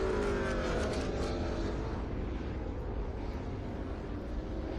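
Historic stock race car, the No. 15 Motorcraft car, lapping the Sonoma track during a sprint race, its engine a loud steady roar that fades slightly as it moves off, with no one talking.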